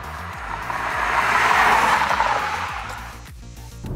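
A 2022 Audi Q3 turbo petrol engine pulls hard under heavy acceleration, a loud rising roar swelling to a peak and easing off, with stepped low rumbling and a brief tire-like hiss throughout.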